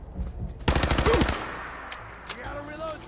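Enemy gunfire in the video game Fallout 4: a loud, rapid automatic burst lasting under a second, then quieter scattered shots and background noise.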